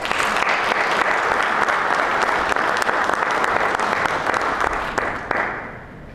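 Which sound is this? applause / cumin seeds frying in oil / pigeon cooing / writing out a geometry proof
applause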